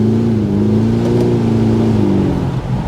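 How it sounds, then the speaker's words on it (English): Audi SQ5 diesel, 341 horsepower, pulling hard at full throttle from third gear, a steady loud engine drone with a rising harmonic tone heard from inside the cabin, no talking. "Let's do a pull from 3rd gear to 70. Torque, oh yes, perfect. This is perfect. I love this. And just let floor it here."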